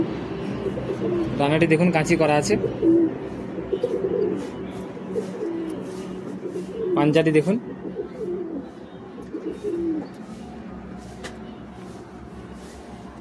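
Pigeons coo repeatedly in a high-flying Madrasi pigeon loft near Kolkata, low throaty calls rising in two louder bursts over a steady bird chorus, with someone talking throughout.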